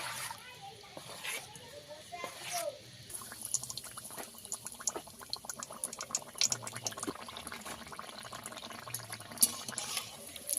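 Water is poured into jaggery pitha batter in a pan, a soft, continuous liquid trickle and splash mixed with light stirring, as a person talks over it.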